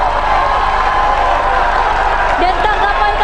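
A crowd of candidate supporters at a televised political debate claps steadily in a loud, dense wash of applause while a voice speaks over it.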